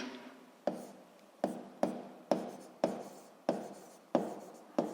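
Pen or chalk writing out a physics equation, with crisp tapping strokes and short scratches repeating about every half second, close and clear, with no voices.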